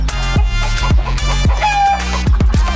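Backyard laying hens, a flock producing green, blue and pink eggs, clucking and squawking close by in a steady stream of overlapping calls, with sharp repeated bursts roughly every half second.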